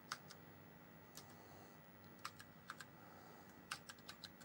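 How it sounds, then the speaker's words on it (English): Keys clack on an Apple IIc computer keyboard with a bad key, sparse irregular presses sounding close and quiet, with short gaps between small bursts of typing. "It's hard to type when the whole keyboard is moving."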